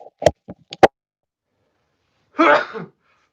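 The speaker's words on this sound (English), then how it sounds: "Excuse me. Sorry about that. I had to sneeze." A single sharp sneeze bursts out after a few brief clicks and taps, followed by quiet.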